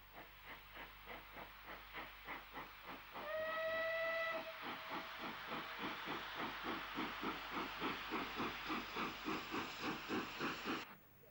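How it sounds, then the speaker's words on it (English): A GWR Hawksworth pannier tank steam locomotive chuffs in a steady, regular beat as it hauls a freight train round a curve near Bristol, UK, with a long whistle blast sounding early on, hissing steam throughout. "A Hawksworth pannier tank brings a freight train round the 1886 curve from North Somerset Junction."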